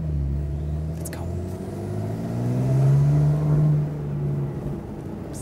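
A Porsche 911 Carrera 4S Cabriolet, 991.2 facelift, accelerates in sport mode, its engine note climbing and swelling steadily through the run, heard up close from inside the car with no talking.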